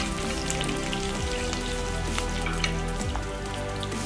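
Garlic sautéing in hot sesame oil for a kuzhambu, a steady close crackling sizzle with dense popping spatter that runs continuously without pause.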